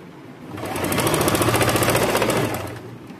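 A tailor's sewing machine stitches the shoulder joint of an A-line kurti, giving a steady close mechanical whirr with a rapid needle chatter that swells and then fades over a few seconds, with no talk.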